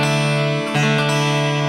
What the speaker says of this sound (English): And that's a 4-string chord, sounds like this